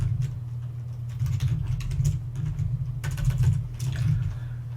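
Computer keyboard typing code, rapid irregular key clicks close by over a steady low hum, with no voices.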